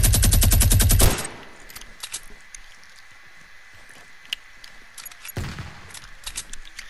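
Automatic gunfire in Fortnite rattles in a fast, loud burst at the start, then fades into quiet game ambience with scattered clicks before a second burst of shots near the end.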